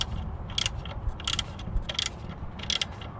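Gear wrench ratcheting while step bars are fitted to a 2019 Nissan Titan XD pickup, with four short bursts of quick metallic clicking over a low background rumble.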